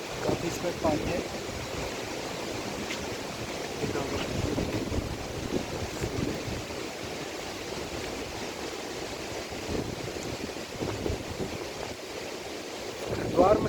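Water of the Ganga flowing through Bhimgoda barrage near Haridwar, a steady broad rushing wash with wind buffeting the microphone, continuous and fairly loud throughout.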